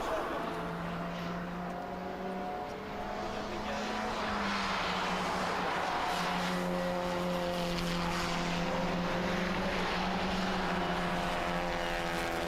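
White racing car with orange highlights in a Clio Cup or Mazda Cup race at Brno, its engine droning steadily and rising in pitch as it passes, with other race cars following behind and no talk over it.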